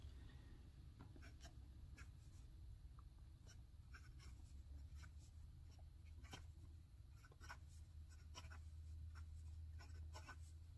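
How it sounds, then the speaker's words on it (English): A Ranga fountain pen moving across lined Rhodia paper gives a faint, steady scratching with small ticks and strokes that continue for about ten seconds, close and quiet over a low background hum. "I'm sure you could tell, just writes very, very smoothly."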